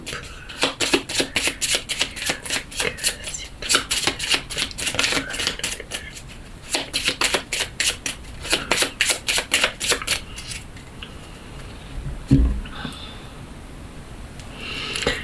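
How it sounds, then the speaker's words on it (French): Lenormand oracle cards being cut and shuffled by hand, a steady run of quick, crisp flutters and riffles for about ten seconds, then a quieter stretch with a single soft thump. "avec une coupe et 6 cartes, on va voir quel est le message que Mademoiselle Lenormand a nous donné pour aujourd'hui"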